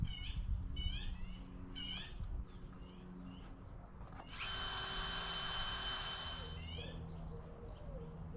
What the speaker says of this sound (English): I used a little drill bit to make a pilot hole